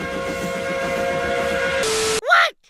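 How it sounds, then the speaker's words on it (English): A park train's steam-style whistle blows one long steady tone for about two seconds, then a brief rising hoot and a short burst of noise, loud and close. "Train!"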